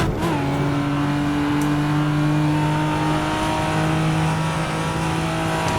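A Toyota Supra Mk IV engine holds a loud, steady high-rpm drone in Assetto Corsa on the Nordschleife, the revs barely wavering as the car is kept high in the rev range, with no talking.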